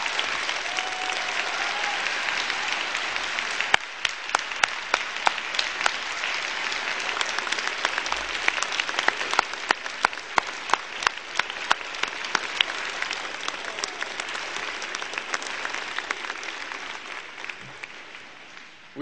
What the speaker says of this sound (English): I will ask everyone to give a huge round of applause to our honorable guest for generously accepting our invitation.